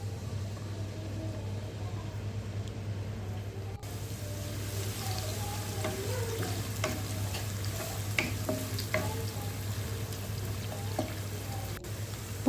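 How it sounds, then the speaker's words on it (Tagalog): Onion fries in oil in a pan, a soft steady sizzle with occasional scrapes and stirring taps over a constant low hum from a nearby appliance. "Put little salt, then fry till golden brown."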